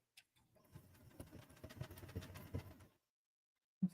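A sewing machine runs a short, quiet burst of rapid stitching, finishing a built-in lock stitch, with a soft patter lasting about three seconds before stopping, followed by a brief click.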